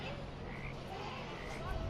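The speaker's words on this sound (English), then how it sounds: "You can hear the frogs." Faint frog croaking in the background at a dirt racing event, blended into a steady outdoor hum with murmuring voices nearby.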